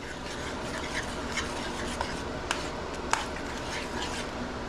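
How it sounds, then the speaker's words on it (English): Cilantro being stirred into pork and beans in a pot, a soft continuous scraping and rubbing with a few light clicks and taps from the spoon, close and fairly quiet. "Just stir in the cilantro at the end."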